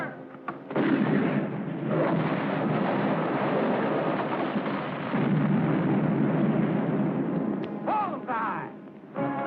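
Ship's cannons fire in a 1951 war film, one heavy report opening a long rolling roar of sustained booming that holds loud for several seconds before fading, with a brief shout near the end.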